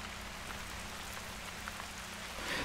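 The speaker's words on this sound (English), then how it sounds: "It's raining again." Light rain falls steadily, a soft even pattering outdoors, faint and constant with no talk.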